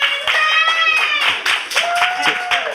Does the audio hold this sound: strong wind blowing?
no